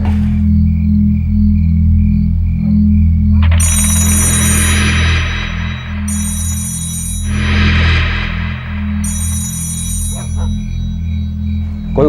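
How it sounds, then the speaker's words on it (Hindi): An unanswered landline telephone rings in repeated bursts, three clear electronic rings separated by short pauses, heard alone over a low steady background hum with no talking. "फोन नहीं उठा रही, मैं लैंडलाइन पर ट्राई करता हूँ।"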